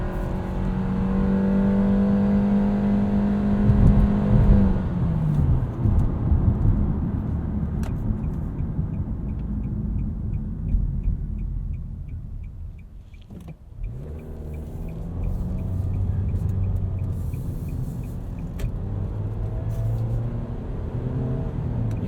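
A 2022 Nissan Kicks SR pulls away from a stop, its engine droning loudly and climbing in pitch for about five seconds before easing off, then settling into a steady cruising hum and picking up again.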